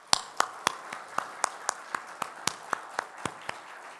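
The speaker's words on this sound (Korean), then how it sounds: "우리 인사할 때 박수로 환영하겠습니다." A church congregation claps in a sharp, steady rhythm to welcome new ministers during a worship service. About fourteen evenly spaced claps ring out crisply over a quiet room.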